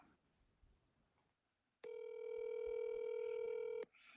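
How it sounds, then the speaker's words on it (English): A telephone handset tone plays: quiet line noise, then a steady two-second electronic ring or dial tone with a clean pitch that stops abruptly. There is faint murmuring before it. "Archie, if I get him on the phone, you got to be prepared to beg and plead."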